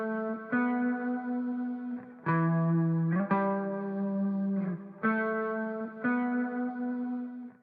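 A solo guitar group from an electronic beat, processed with chorus and echo effects, plays sustained chords that shift every second or so, bright and evenly loud with a smooth effected shimmer.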